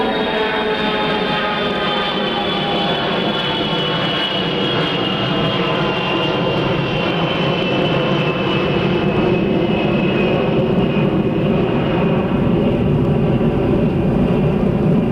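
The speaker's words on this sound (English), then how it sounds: "We've got a plane taking off from Pope, C-141." A C-141 military transport plane roars loudly and steadily as it takes off, its engine whine slowly shifting in pitch over a constant rumble.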